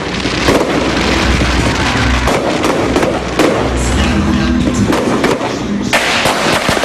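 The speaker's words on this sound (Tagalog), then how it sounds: "panoorin ang magarbong fireworks display" New Year fireworks at a mall in Lipa, Philippines crackle and pop in dense, irregular bursts with several sharp louder bangs, heard from close range amid constant background noise.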